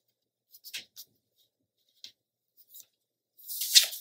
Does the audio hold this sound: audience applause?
no